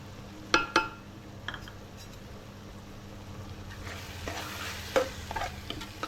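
Spices such as turmeric, cumin powder and biryani masala are stirred and fried in a pan for prawn biryani, with a soft steady sizzle and a few sharp scraping clinks of the spoon near the start.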